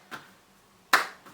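A single sharp hand clap in an upper-body hand-eye coordination workout, with a fainter clap just before and another soft one after, heard close up in a quiet room with no talking.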